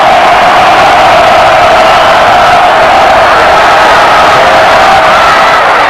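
Roaring college football stadium crowd, 1985, cheering loudly on third and twenty late in a close game, a dense, sustained wall of voices with no breaks.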